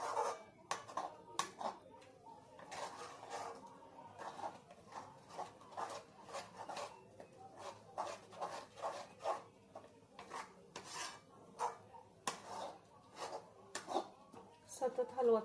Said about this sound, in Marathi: गॅस फुल करायचा आता आणि पटपट हे हलवून घ्यायचं